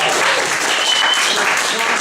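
A brief, dense burst of applause from an audience at a JROTC event, steady and loud for the full two seconds with no pauses.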